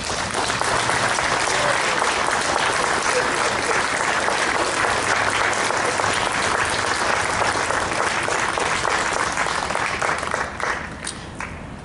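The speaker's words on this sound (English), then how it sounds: "how about a big warm round of applause to our veterans?" A crowd at a Veterans Day event in La Mirada gives veterans a long, warm round of applause, thick and steady throughout before thinning slightly at the close.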